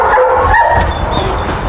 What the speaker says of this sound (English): even with a dog barking at her in there